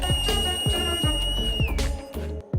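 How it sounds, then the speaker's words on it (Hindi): A person whistles a single sustained high tone by mouth that bends downward near the end, over a steady rhythmic thumping beat. "दोस्तों कभी आपने सीटी बजाई है?"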